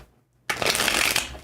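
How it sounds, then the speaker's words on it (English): A deck of tarot cards is given one crisp riffle shuffle, a bright, fast fluttering burst that starts suddenly after near silence and lasts about a second, close and alone. "And then let's do one more nice crispy shuffle."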